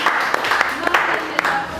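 Brief applause from an audience greeting a speaker at a public-speaking training session, scattered claps mixed with voices and cheering over a short burst.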